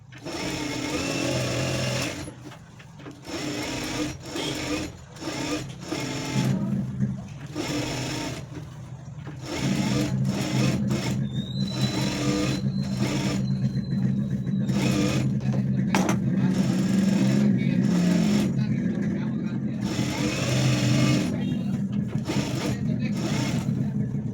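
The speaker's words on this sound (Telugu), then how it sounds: "ఇప్పుడు ఈ చుట్టూ కూడా మనము స్టిచ్చింగ్ అనేది వేసేసుకోవాలి" A sewing machine runs close and loud while stitching around a blouse, with stop-start bursts at first and then a long continuous hum. A voice speaks during the quieter opening stretch.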